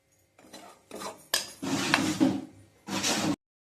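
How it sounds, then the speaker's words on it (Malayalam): Metal spoon scraping and clanking against a cooking pan while chili, turmeric and fenugreek powders are stirred, in several close, loud bursts separated by short pauses. "നമുക്ക് നല്ലോണം ഇളക്കിയെടുക്കാം"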